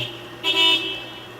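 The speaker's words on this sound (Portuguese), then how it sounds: "E buzinaram aqui." A single short car horn toot sounds from outside, a brief honk of about a third of a second over steady background hum.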